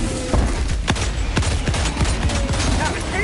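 Rapid bursts of gunfire shoot at bugs in the video game Helldivers 2, with dense, repeated shots and booms close up and continuous over a few seconds.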